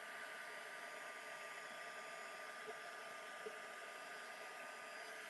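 A heat tool blows steadily to dry paint on a mixed media art piece, a continuous broadband whoosh with a faint tonal whine, close and unbroken throughout with no talking.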